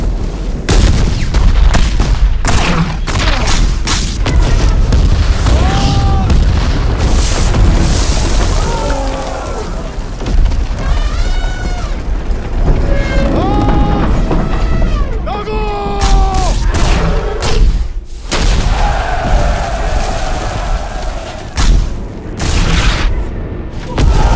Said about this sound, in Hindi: अपनी तोपें दागो इन पे